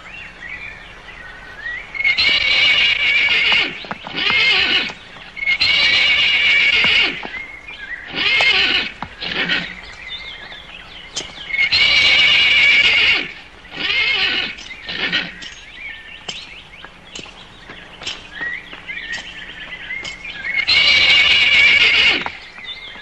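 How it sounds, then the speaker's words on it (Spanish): Repeated loud horse neighs and whinnies from a 1964 Mexican ranch film, several long calls in bursts across the stretch, with faint hoof clip-clop and bird chirps between them. "Mejor que te olvides de ese caballo, Gavino"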